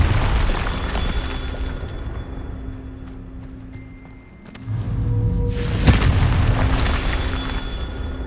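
In the Hogwarts Legacy video game, the Confringo spell goes off as a loud, booming fiery blast with a rumbling tail. It sits among continuous game ambience and a brief lull, with no speech.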